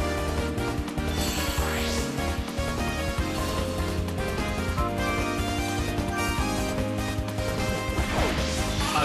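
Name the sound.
Pokémon battle knockout attack hit effect, video game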